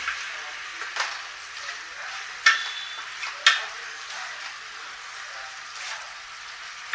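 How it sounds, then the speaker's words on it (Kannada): Chicken masala cooks on a low flame with a steady soft sizzle, and a spoon stirring the pan makes a few sharper scrapes over it. "ಚೆನ್ನಾಗಿ ಮಿಕ್ಸ್ ಮಾಡಿ ಆಮೇಲೆ ಮತ್ತೆ ಒಂದು ಐದು ನಿಮಿಷ ಸಣ್ಣ ಉರಿಯಲ್ಲಿ ಬೇಯಿಸ್ಲಿಕ್ಕೆ ಇಡೋಣ ಆವಾಗ ರೋಸ್ಟ್ ಆಗುತ್ತೆ"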